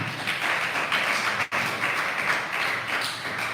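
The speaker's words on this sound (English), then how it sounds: "Please let's clap for them." An audience at a high school science and mathematics olympiad final applauds students for a correct answer, a steady, dense wash of clapping that holds for a few seconds.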